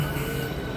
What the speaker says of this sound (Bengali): হাওড়া লোকাল চলে এসছে ট্রেন